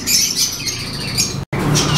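Parrots and lovebirds squawk and chirp at a busy bird market in Multan, harsh overlapping calls close by with a brief cut partway through.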